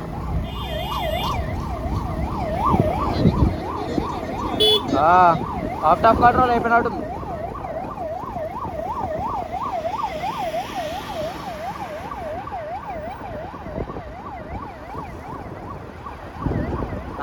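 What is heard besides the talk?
ambulance siren on the highway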